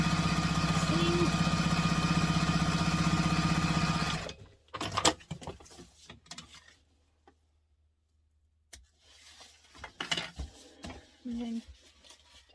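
A sewing machine stitches a binding seam on a bowler bag, running steadily and loudly for about four seconds before stopping, followed by quieter handling noises and brief bursts of talk.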